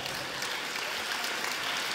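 A brief burst of dense applause from a science slam audience, many hands clapping at once in an even wash of sound with no voices.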